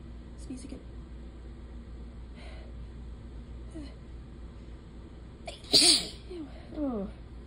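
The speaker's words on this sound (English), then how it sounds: "I'm gonna sneeze." A single sharp human sneeze bursts out near the end, preceded by quiet breathy sounds and soft murmurs in a still indoor room.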